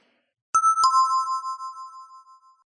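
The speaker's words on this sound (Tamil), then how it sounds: "காலிங் பெல் அடிக்கிற சத்தம் கேட்டதும்" A two-tone electronic doorbell chime on a home's door strikes twice in quick succession, ding then dong, and each bright tone rings on and slowly decays in otherwise silent surroundings.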